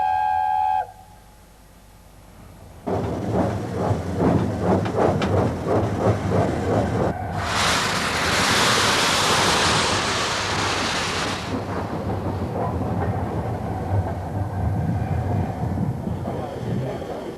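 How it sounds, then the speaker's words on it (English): LNER Mallard steam locomotive pulls away from her shed, a loud rumble with rhythmic chuffing and a burst of hissing steam midway, with a low steady drone underneath throughout. "the proud locomotive leaves her shed on the way to pick up her train"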